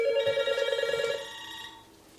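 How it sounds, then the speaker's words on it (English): An extra loud telephone with a light alert system rings in a steady bright electronic trill that fills the first second and a quarter, then decays into a fading ringing tail. No one speaks. "Carl and Deb combine an extra loud doorbell and telephone with a light alert system"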